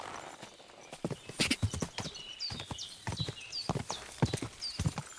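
Horse hooves clip-clop in a steady walking rhythm over open ground in Kingdom Come: Deliverance II, fairly close and moderately loud, with a few brief whinny-like calls above and no talking.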